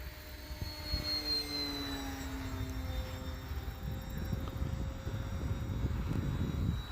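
Arrows RC Bearcat model airplane with a two-blade prop flying overhead through a tight barrel roll and banked turn, its engine whine rising and falling in pitch against steady outdoor wind noise.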